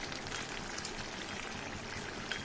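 Morola fish curry simmers in a covered pot, giving a steady close bubbling and gentle popping with no voices.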